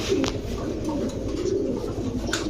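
Giribaz high-flyer pigeons at a pigeon dealer's shop coo softly and repeatedly in a steady low murmur, with faint shop background noise.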